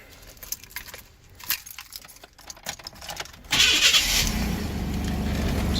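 Keys jangle and click in the ignition of a 1995 Chevrolet Blazer, then the engine cranks briefly and catches, settling into a steady idle close by.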